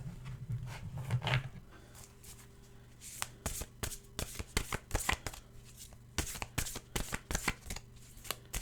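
A deck of oracle cards is shuffled in quick riffling bursts, a rough rustle first, then a series of sharp crisp snaps and flutters of cards close by, with no voices.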